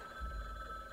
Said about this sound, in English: it won't let me not answer the phone